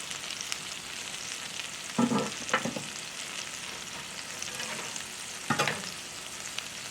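An Oklahoma onion burger patty fries in a pan with a soft, steady sizzle, broken by a few brief louder scrapes or stirs, all fairly quiet and without voices.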